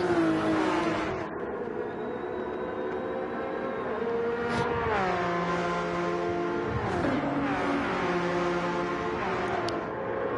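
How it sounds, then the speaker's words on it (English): A Porsche race car in a Porsche vs Ferrari Challenge race powers through a turn, its engine note rising and falling through several gear changes, loud and close throughout. "pulled away now from the pack in his Porsche as he comes through turn 12 for the 4th time."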